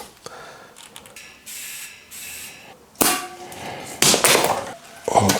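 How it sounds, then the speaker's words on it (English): Sharp hissing bursts as a pump forces air into a road bike tyre freshly filled with Vittoria sealant, with a few faint strokes followed by three louder, close, irregular puffs. "Put your valve back in and get some air in it."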